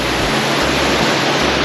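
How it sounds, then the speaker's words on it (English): Thundering waterfalls pour into deep water in a quiet wooded glade, a dense, steady roar that fills the scene evenly from start to finish with no voices. "above the thundering sound of waterfalls in this sleepy hollow, this glade of waterfalls and deep water"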